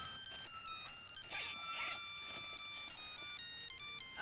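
A phone ringtone plays a repeating electronic melody of bright, stepped tones, loud and continuous throughout, with no talk over it.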